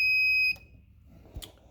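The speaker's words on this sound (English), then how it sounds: "This is the green button, which is a simulator of the doorbell. You can hear it from the buzzer." A small electronic buzzer in a student home automation board sounds a steady high piercing tone for half a second as a doorbell stand-in, then cuts off, followed by faint handling clicks.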